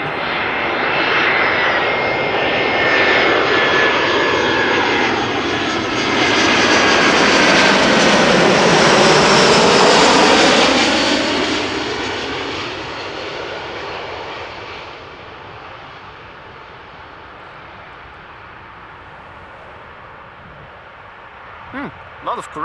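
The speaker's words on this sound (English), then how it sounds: "Top Air Portugal coming in from Lisbon, an Airbus A319." A TAP Air Portugal Airbus A319 arriving from Lisbon at Amsterdam Schiphol passes close overhead, its loud jet roar swelling and sweeping in pitch, then fading to a distant rumble.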